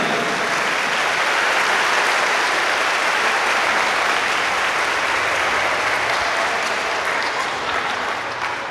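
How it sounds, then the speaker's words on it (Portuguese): Continuous, dense applause from a big crowd honoring fifth-grade students at a PROERD graduation ceremony in a municipal school network, loud and even for the whole stretch, easing slightly near the end. "Mais palmas eles merecem"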